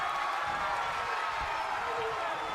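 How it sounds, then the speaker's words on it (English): A professional wrestling crowd at a Las Vegas show, a dense, sustained roar of cheering and noise that stays steady and loud throughout. "And Marcella is now taking her turn to amp up the crowd here at PHYXIUS."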